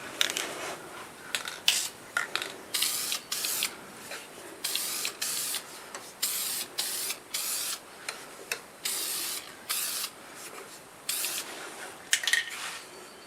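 Lacquer being sprayed onto a turned padauk wood piece in a workshop, repeated short hissing bursts in an irregular rhythm with brief pauses between them, close and fairly quiet.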